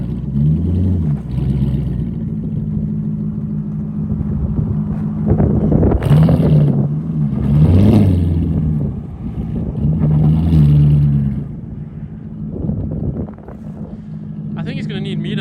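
A one-wheel-drive drift wagon with a broken axle revs hard in deep snow in -15 degree cold, engine surging in several loud pulses as it tries to pull free, with wind noise and people talking.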